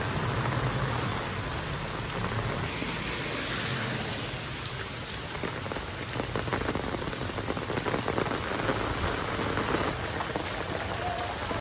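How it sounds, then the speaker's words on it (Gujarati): Heavy rain falls steadily on outdoor surfaces in Gujarat, a dense, even hiss with spattering drops that runs continuously and fairly close, with no voices. "વરસાદ તો ચાલુ જ છે"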